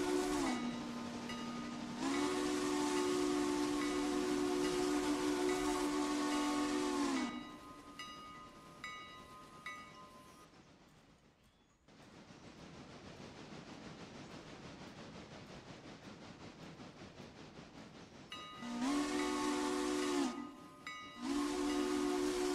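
Steam locomotive whistles from a whistle mod in the game Railroader blow in long, loud, harmonically rich blasts, then steam hisses for several seconds before two more shorter whistle blasts.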